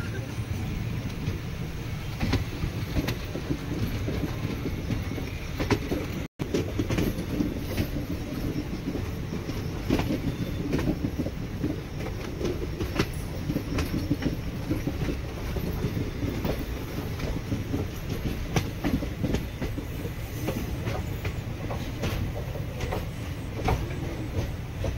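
Mannai Express train rolling along rail tracks between Mannargudi and Chennai Egmore, heard from inside with a steady loud rumble and faint rhythmic clacking, with no talking.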